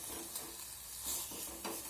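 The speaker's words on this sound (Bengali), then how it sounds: "এখন আরেকটু নাড়াচাড়া করে একদম জলটাকে শুকিয়ে নেব।" Boiled chicken pieces are stirred in a pan on the stove to dry off the remaining water, giving faint sizzling with soft scraping stirs at a low, quiet level.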